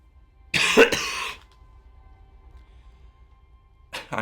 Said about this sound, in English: I'm sorry about all the coughing